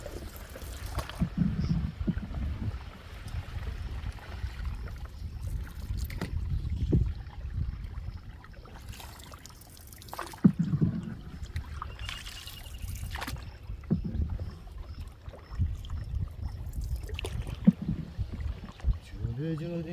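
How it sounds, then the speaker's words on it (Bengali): A wooden boat is rowed through wetland, with soft splashes and knocks of oars in the water under intermittent conversation between people aboard, set against light wind. "আপনি তো ভালোই নৌকা চালাতে পারেন"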